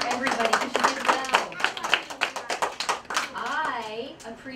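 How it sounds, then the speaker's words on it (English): A group of children at a space-themed story time clap together in a quick, uneven burst of close applause lasting several seconds, with a voice chiming in near the end. "we're going to clap for everybody because you did well"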